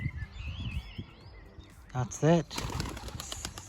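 A released pigeon in a garden plot bursts into flapping wingbeats and flies off, a short loud flurry of wings after quiet background birdsong, with a person speaking briefly nearby.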